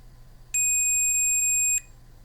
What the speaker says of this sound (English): If it beeps, they are connected.